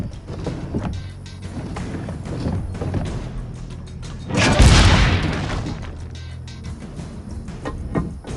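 A single heavy cannon boom in Assassin's Creed Brotherhood bursts out over a low rumbling background, with scattered thumps and clatter before and after.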